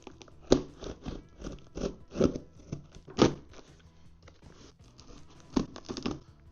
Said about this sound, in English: let's get the box open with a pair of scissors